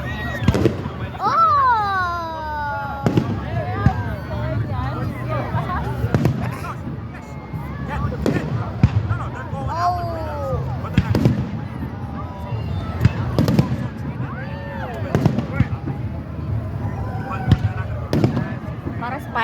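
Independence Day fireworks burst repeatedly with sharp pops and booms at irregular intervals, some with whistling trails, while people nearby talk and exclaim throughout.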